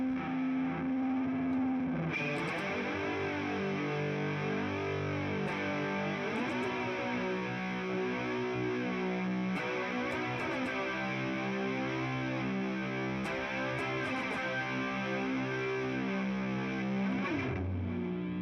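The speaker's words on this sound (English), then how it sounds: "I kick in this fuzz and this big reverb." Heavily distorted electric guitar through a Fender Tone Master Pro with a thick fuzz tone and a wide, washy reverb, playing sustained chords loudly and continuously.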